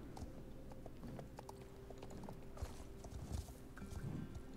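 Horse hooves clip-clop in a video game with many horses, a quiet, irregular patter of hoofbeats over soft ambient background, with little else around it.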